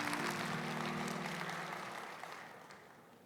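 A church congregation at a Sunday service claps to welcome new members, broad applause that stays full for a moment and then slowly fades, with a low sustained tone underneath.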